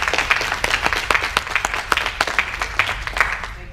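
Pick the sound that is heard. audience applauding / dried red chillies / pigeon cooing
audience applauding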